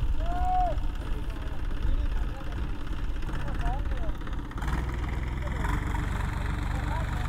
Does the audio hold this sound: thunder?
no